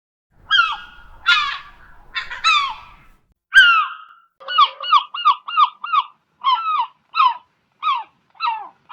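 Seagulls cry over a coastal boardwalk in a series of sharp, harmonic calls, a few clustered squawks first, then a steady run of evenly spaced cries, with no voices.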